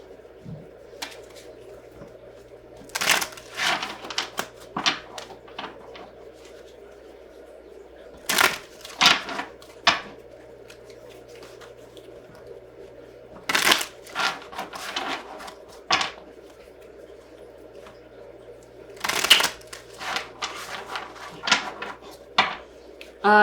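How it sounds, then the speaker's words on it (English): A tarot deck shuffled by hand, with repeated clusters of sharp card slaps and riffles separated by quieter stretches over a steady low hum, close by and fairly crisp. "I need to give a little shuffle here."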